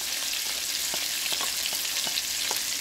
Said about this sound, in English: Then we're gonna add in our garlic